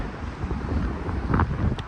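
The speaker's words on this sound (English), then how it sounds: "It's windy and rainy here right now." Wind buffets the microphone in a steady low rumble with gusty swells, loud and close, with no voices, on a rainy outdoor wooden train platform at Quincy station, Chicago.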